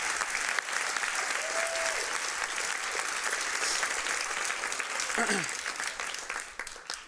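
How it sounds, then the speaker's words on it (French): A crowd at a regional final of a student performing arts show applauds the participants, sustained dense clapping with some cheering that carries on for several seconds, with a voice heard through it. "je pense que je peux vous laisser les applaudir à nouveau"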